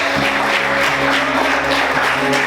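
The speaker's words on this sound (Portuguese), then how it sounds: "aplauda Ele bem forte" A church congregation applauds during a service, dense sustained clapping from many hands filling the room, steady and loud, with a faint low hum underneath.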